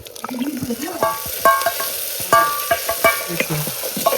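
Ground masala paste for stuffed brinjal is stirred and sautéed in a hot pan, giving a close, continuous sizzle broken by repeated scraping strokes of the spoon.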